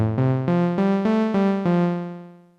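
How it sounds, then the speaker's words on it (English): Sampled Korg Volca Keys synthesizer playing a rising sequence of sustained harmonic notes, about six steps in quick succession, then a held tone that fades out over a couple of seconds; clear and alone. "This is just a sample I made of my Korg Volca keys."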